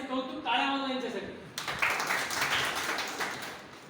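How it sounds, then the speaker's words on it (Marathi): An audience bursts into a dense wash of clapping that starts abruptly and keeps going steadily, right after a voice speaking. "यांचं कौतुक टाळ्या वाजवा यांच्यासाठी"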